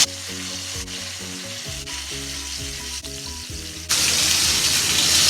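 Mackerel fish frying in an oiled pan: a continuous close sizzle under tonal background music, swelling into a louder, harsher burst of sizzling near the end.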